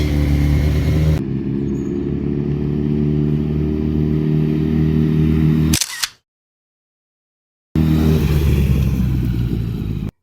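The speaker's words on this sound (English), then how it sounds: "the bike is now running and driving" A 2007 Honda CBR1000RR sportbike engine running steadily nearby, a loud, even low drone that cuts out abruptly into a gap of silence before resuming just as strongly.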